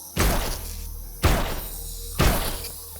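Butt bugs in Empyrion Galactic Survival, a sci-fi survival video game, give three loud buzzing bursts about a second apart, each starting sharply and then fading.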